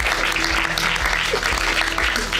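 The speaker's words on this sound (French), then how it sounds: "On peut l'applaudir." Warm applause from a festival audience greeting an audience-prize winner, steady overlapping claps throughout, fairly close and loud, with faint voices and a brief tone mixed underneath.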